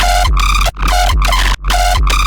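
Main synth bass of an electronic drop, designed in Vital, pulsing in three loud, harmonically rich growling hits with short gaps between them, alone without voices.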